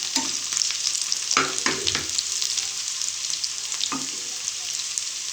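Masala paste for a homemade masala pasta is stirred and fried in oil with onions, a continuous close sizzle broken by several scraping spatula strokes in clusters.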